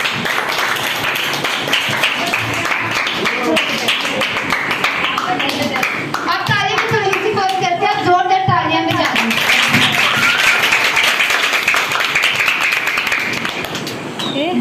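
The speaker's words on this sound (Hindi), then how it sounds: "अब हम अपने पापा को वाइस चेयरमैन को बुलाएंगे आपकी भरपूर तालियों के साथ।" An audience at a church ministry gathering in Pakistan claps loudly and continuously, the dense applause briefly overlapped by a voice in the middle.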